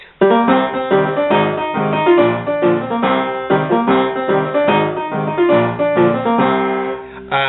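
Solo piano plays an arrangement of the Pirates of the Caribbean theme, with loud, rhythmic repeated chords and a bold melody driving steadily over several bars before ending abruptly.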